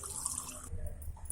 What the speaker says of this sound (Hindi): इसको कूटली में पानी डाल करके एक बर्तन में डाल दे रही हूँ।